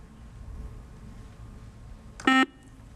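A single short electronic buzzer tone sounds on a TV quiz show, sharp and moderately loud against a quiet studio background, lasting under a quarter second.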